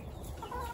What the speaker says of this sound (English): You're a big rooster.